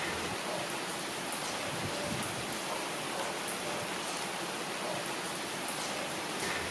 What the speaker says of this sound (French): vous allez sûrement entendre la pluie tomber